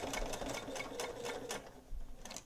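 A sewing machine stitches up the sides of a fabric microwave potato bag, a quiet rapid mechanical chatter running steadily and close, pulsing slightly as the needle drives through the cloth.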